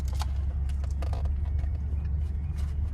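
Car driving up to a property on a historic road near strip malls, a steady low engine and road rumble heard from inside the vehicle, with a few faint clicks and knocks over it, no talking.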